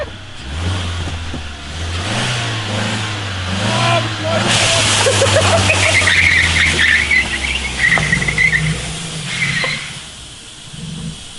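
A car engine with a potato jammed in its exhaust idles loudly up close, its low rumble wavering and surging, with hissing and rattling mixed in and voices chattering over it.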